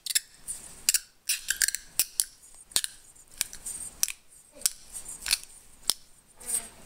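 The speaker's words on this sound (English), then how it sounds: "if the bearing inside your pulley sounds like that, time to find another one" Worn bearing in a belt tensioner pulley being spun by hand, giving a gritty, scraping rattle with irregular sharp clicks, close but fairly quiet and heard alone for about seven seconds.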